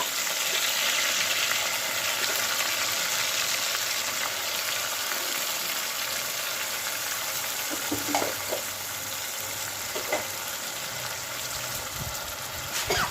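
Masala of onion, ginger, garlic, green chillies and tomato fries steadily in hot oil for a fish curry, a constant broadband sizzle with a few soft stirring clinks, close and alone without talk.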